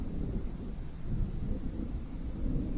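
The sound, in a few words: thunder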